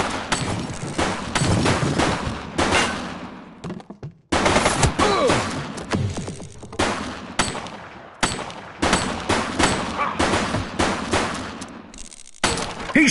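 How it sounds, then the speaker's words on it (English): Sustained gunfire in the police video game The Precinct, long loud bursts of rapid automatic shots broken by a few short silent gaps, close and intense, with no talk. "He's shooting!"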